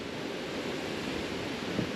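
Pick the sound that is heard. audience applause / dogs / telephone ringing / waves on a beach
waves on a beach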